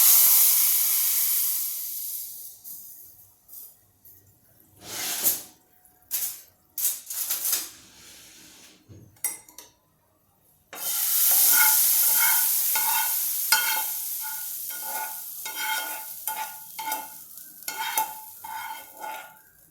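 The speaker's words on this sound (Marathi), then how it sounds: "हा तडका थोडासा फिरवून घेतला मी आणि हा आता या दाल पकवानवर मी ओतणार आहे" Hot tadka (tempering) poured over Sindhi dal pakwan: scattered scraping and clatter first, then a sudden loud burst of hissing sizzle that carries on with crackling pops, no talk.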